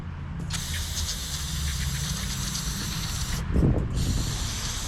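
A loud, continuous aerosol spray of carburetor cleaner hisses close up for several seconds on an 80cc bike carburetor, briefly pauses, then resumes.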